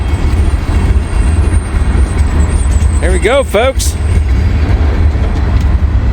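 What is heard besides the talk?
big train passing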